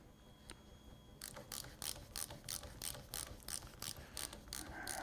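A torque wrench with a 32 mm chamferless socket ratchets a Rock Shox Lyrik fork's air bump stop top cap tight, giving a steady run of about a dozen sharp, evenly spaced clicks after a quiet opening.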